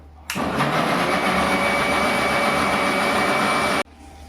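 Kitchen mixer grinder blending boiled spinach, its motor snapping on into a loud, steady whirring roar for about three and a half seconds and then cutting off abruptly, with no speech.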